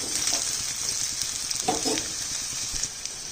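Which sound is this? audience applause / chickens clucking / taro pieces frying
taro pieces frying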